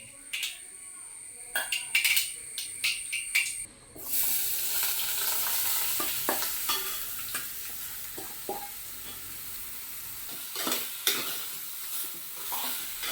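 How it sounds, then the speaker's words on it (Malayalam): Mustard seeds crackle and pop in hot oil under a steady sizzle, with scattered sharp pops and a few stirring knocks close by. "കടുക് പൊട്ടുന്നുണ്ടല്ലോ"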